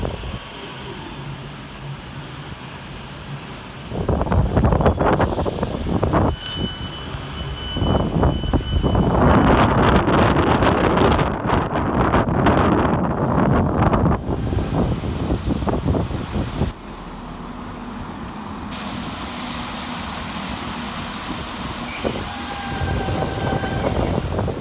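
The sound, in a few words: Avanti West Coast Class 390 train passing fast through station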